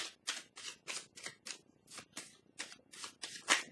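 Tarot cards are shuffled by hand in a quick, steady run of about eleven crisp riffling bursts, close and fairly quiet, with no talking.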